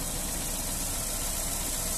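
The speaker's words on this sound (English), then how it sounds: "Smooth running engine." Petrol 1.4 i-DSI engine of a Honda Jazz Sport automatic hatchback idling, a steady even hum heard close up with no talking.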